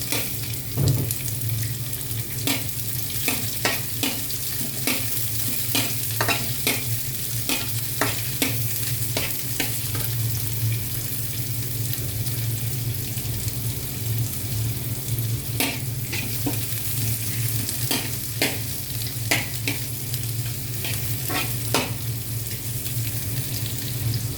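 Chopped onion sizzles steadily in a hot pan while a utensil stirs and scrapes it every second or so. The frying hiss is continuous and close, with no talking.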